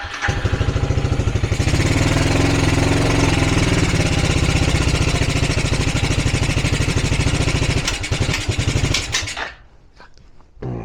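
A Suzuki LT300E ATV engine runs loud and close with a fast, steady chugging putter, held under throttle for several seconds before cutting out abruptly near the end.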